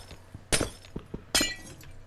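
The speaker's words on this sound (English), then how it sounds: "Let's break the glass." Glass blocks shatter in Minecraft with the Material Energy modpack, two crisp breaking crashes about a second apart with faint clicks between them. No one talks.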